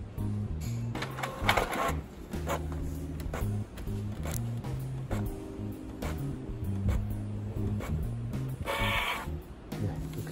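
A Canon Maxify multifunction printer runs a precision print-head cleaning cycle, giving continuous mechanical whirring and rhythmic motor hums with repeated clicks and clacks of moderate loudness, heard alone without talk.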